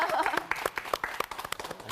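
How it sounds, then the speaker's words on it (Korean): A small studio audience claps during a Bible lecture, with scattered individual claps forming a sparse, uneven patter nearby and a voice briefly heard at the start. "박수."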